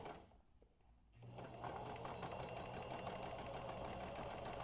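A sewing machine runs close by while stitching a fabric face mask. It starts after a quiet second, then hums steadily with a rapid, even needle clatter until the end, and nobody speaks.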